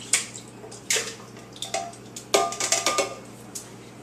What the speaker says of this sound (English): So first we're going to take the whole tomatoes and pour those in.